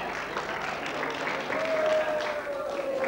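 An audience at a high school king and queen election in Białystok claps steadily throughout, a dense wash of applause with a faint sustained tone rising in the middle; no clear speech.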